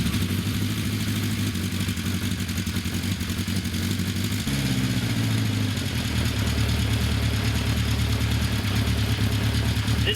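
A Honda CM450 motorcycle engine runs steadily in a garage, a loud mid-pitched idle with mechanical clatter that dips in pitch midway, with no talking over it.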